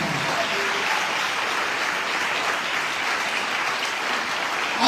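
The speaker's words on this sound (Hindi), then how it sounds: "खुदावंद यीशु मसीह के लिए जोरदार ताली।" A church congregation claps loudly and steadily throughout, a dense wash of applause from many hands filling the room without a break.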